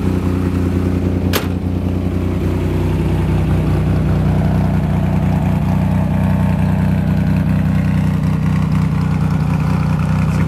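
A never-restored 1967 Austin Healey 3000 Mark III BJ8 British roadster idles steadily and strongly, a continuous low engine drone held close throughout with one brief sharp click early on.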